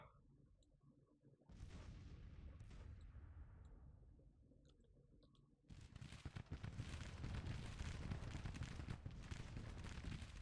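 Dense, continuous volleys of musket fire crackle from a Civil War battle in the strategy game Grand Tactician: The Civil War, with booming artillery mixed in and the barrage intensifying in the second half.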